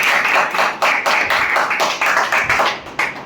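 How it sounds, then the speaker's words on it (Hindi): A group claps at a corporate experience-sharing session, sharp close claps in bursts that repeatedly rise and fade rather than forming a smooth roar. "तो सर के लिए जोरदार ताली होगी"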